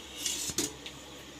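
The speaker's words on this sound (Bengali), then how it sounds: "এবার আমরা ঢাকনা খুলে দেখব মোমোটা কতটা স্টিম হয়েছে।" A metal lid lifted off a pot of steamed momos, with a couple of brief light metallic clinks and clatters, close and quiet against faint background hiss.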